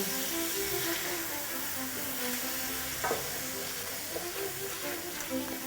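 A utensil scrapes spices stuck to the bottom of a pan of chicken breyani after tomatoes go in, with a steady close sizzle and occasional scraping strokes.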